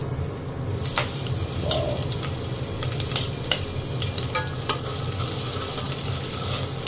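Garlic frying in hot oil, a loud, steady sizzle close up with scattered crackles and pops and the occasional stirring scrape, heard alone without talk.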